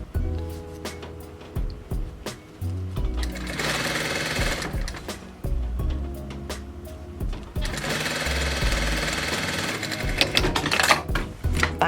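Sewing machine stitching a zip into a cushion cover, a loud, fast mechanical rattle running in two long bursts, with shorter stops and clicks of the needle between them and no one talking.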